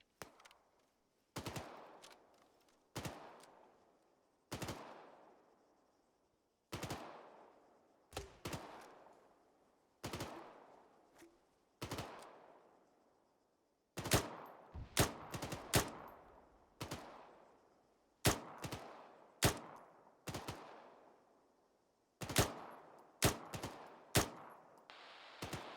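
Suppressing machine-gun fire in the Arma 3 military game: repeated loud bursts and single shots with sharp attacks and decaying tails. The shots are sparser at first, then turn denser and more rapid, with no talking over them.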